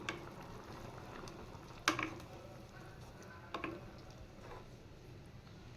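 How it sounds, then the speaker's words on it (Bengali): Dal curry boiling in a pot, a Bengali vegetarian dish: a faint, steady bubbling patter with occasional soft pops, and one sharper tick near two seconds, all quiet and close with no talking. "এবার আর একটু ফুটিয়ে নেব"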